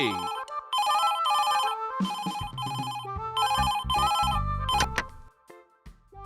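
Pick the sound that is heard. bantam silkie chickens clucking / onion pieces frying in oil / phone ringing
phone ringing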